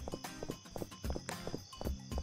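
Horse hooves clip-clop in the Roblox western game Westbound, a steady run of close, fairly loud hoofbeats in a regular rhythm over game ambience, with no talking.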